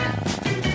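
A cat purrs close by, a brief, soft, steady rumble with a gentle pulsing rhythm and no voices.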